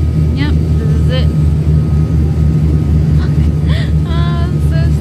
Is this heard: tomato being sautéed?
no